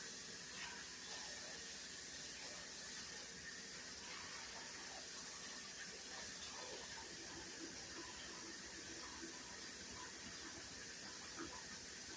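Chicken bone broth pours from a gallon-sized bag into a pot in a kitchen, a faint, steady liquid hiss and splash that runs on evenly without talk.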